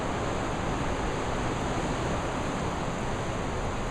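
Mineral spring water at Niagara Glen rushes in a dense, even, close wash of splashing noise that stays constant throughout.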